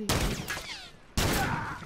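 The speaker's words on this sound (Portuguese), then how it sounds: "Toma esse tiro de 12." In a video game, a shotgun fires twice in sharp, loud blasts about a second apart, each one trailing off in a short echoing tail.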